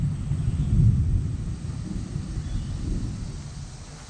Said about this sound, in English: And I hear far distant thunder too.